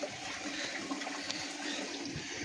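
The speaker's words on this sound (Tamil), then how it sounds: "தண்ணி அங்கேயும் இங்கே ஊற்றுறது தான் அந்த சவுண்டு" Water splashed and poured about at a forest river source, a soft, continuous trickling and splashing, fairly quiet and steady.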